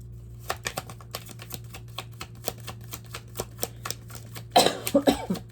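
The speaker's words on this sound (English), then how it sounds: "Sorry about my cough." Steady light clicking throughout, then a short burst of rough coughing near the end, close by.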